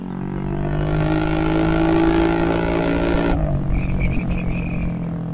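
A Honda Vario 125 scooter from 2023, fitted with a new aftermarket exhaust, revs loudly and close by, a sustained rough engine roar that drops abruptly partway through to a lower idle burble.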